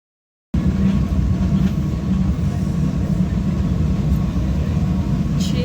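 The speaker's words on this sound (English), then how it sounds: "Chilling in the train." Inside a moving train, a constant low rumble and roar of the carriage fills the space evenly, with faint clicks now and then and no speech.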